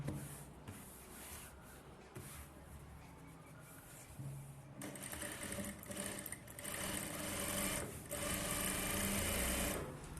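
A sewing machine stitches piping along a saree border, running in a steady close whirring drone that grows louder and faster after a softer start, with a few clunks of handling in between.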